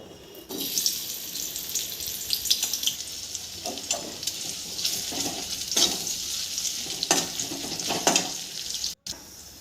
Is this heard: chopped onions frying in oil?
yes